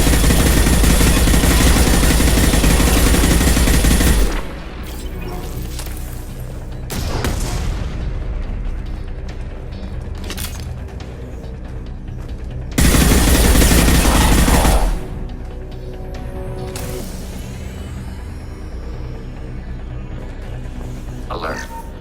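Loud bursts of gunfire and booming blasts in a Mass Effect 2 firefight, two sustained heavy volleys separated by quieter stretches of sporadic shots and radio-style voices talking.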